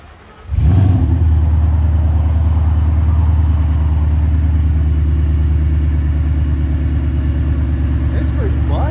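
A 770 hp supercharged Ford Mustang GT 5.0L V8 with its exhaust valves closed starts up, then idles with a loud, steady, deep burbling rumble that continues without a break.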